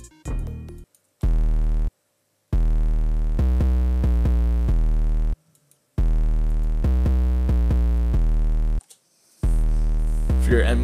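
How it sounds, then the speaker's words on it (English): 808 bass in an FL Studio beat: loud, sustained sub-bass notes with harmonic overtones play in blocks separated by short gaps of silence, forming a repeating pattern with no voice present. "After that, I add the 808."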